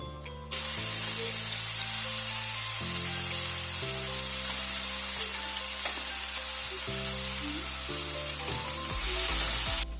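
Chopped ingredients and curry leaves go into hot oil in a home kitchen pan and set off a loud, steady sizzle close by. The hiss continues for several seconds under a low, shifting background hum, with no talking.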